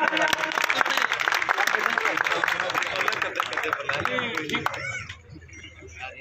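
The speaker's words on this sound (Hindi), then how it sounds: "जोरदार तालियां।" A political rally crowd claps and cheers loudly in a dense wash of applause that thins and fades toward the end, leaving scattered claps.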